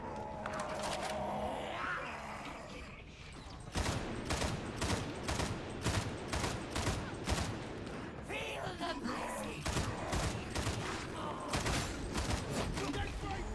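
Gunfire in Warhammer: Darktide, a run of sharp, evenly spaced shots in quick succession, loud and close, with faint game noise and a voice underneath at times.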